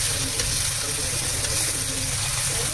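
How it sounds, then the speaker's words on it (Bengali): Onions frying steadily in oil for rohu fish curry, a dense, continuous sizzle that fills the whole stretch, close and fairly loud with no voices. "পেঁয়াজটা ভাজা হয়ে গেছে, এবার টমেটো কুচি দিয়ে দেবো।"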